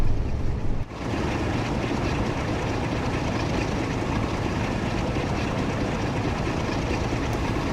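Diesel locomotive hauling a mail car and a Class 101 unit in Train Sim World 4, a steady loud engine drone with rolling rail rumble, continuous after a brief dip near the start.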